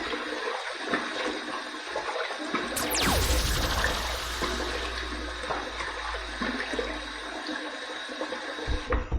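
Hot water gushes into a bathroom sink while a wet shave is being set up, a steady close rush with a strong surge partway through before easing back to a constant flow.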